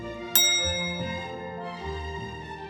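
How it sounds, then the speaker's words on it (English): A single bright elevator bell ding rings out and fades over a low, humming background with some tonal music-like sounds. "elevator doors opened with a ring of a bell"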